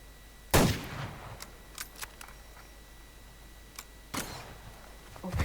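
Gunfire in the shooter game Survarium: two sharp, loud shots about four seconds apart, with faint clicks and small impacts between them and another shot starting at the very end.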